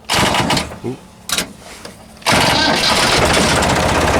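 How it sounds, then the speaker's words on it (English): A Massey Ferguson 135 tractor engine cranks briefly, pauses, then catches and settles into a loud, steady running rumble close by. "Now I'm going to turn the engine on."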